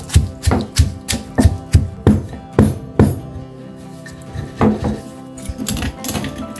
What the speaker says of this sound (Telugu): ఎండుమిర్చి మెత్తగా దంచేసుకుందాం రోట్లో వేసి